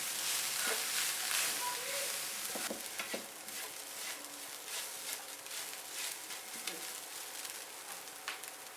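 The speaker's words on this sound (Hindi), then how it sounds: "अब इन सब चीज़ों को अच्छी तरह से भूनेंगे।" Spices and flour (maida) with white pepper and crushed red chilli are stirred and dry-roasted in a pan, giving a steady close sizzle and hiss with occasional scraping strokes throughout.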